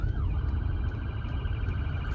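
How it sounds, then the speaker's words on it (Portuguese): Ambulance siren wailing steadily on a street, heard from inside a car over a continuous low road rumble, the rising-and-falling tone moderately distant and constant throughout. "quando vê uma ambulância você tem que estacionar"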